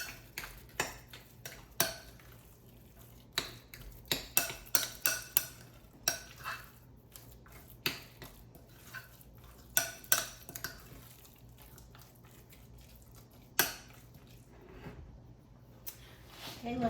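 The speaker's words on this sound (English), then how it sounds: "Mix it in really good." A spoon clinks and scrapes against a bowl while chicken salad with sweetener is stirred in, giving a string of sharp irregular taps close by over a quiet background.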